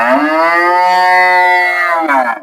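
A Holstein Friesian cow at a dairy farm lets out one long, loud, drawn-out moo close by, steady for about two seconds before tapering off, with no talking.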